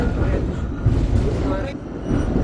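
Tram ride through Wrocław, with a steady low rumbling rolling drone of the tramcar running close and continuously, plus a brief dip in the noise partway through; a voice talks faintly over it.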